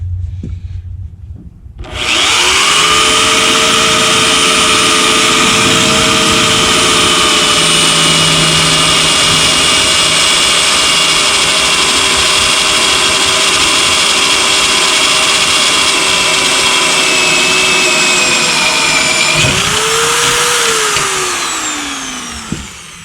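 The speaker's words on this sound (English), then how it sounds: "let the drill do the work" A power drill driving a screw whirs at a steady pitch for about twenty seconds, then winds down with a falling whine at the end.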